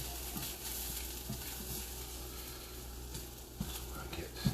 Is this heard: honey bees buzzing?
no